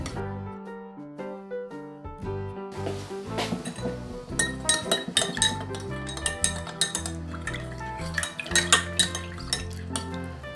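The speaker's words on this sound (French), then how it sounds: "Je mélange le tout avec une cuillère légèrement." A spoon clinks and scrapes against a bowl while lightly mixing a yeast mixture for brioche dough, a busy run of close metallic taps and chinks after a few sparse ones.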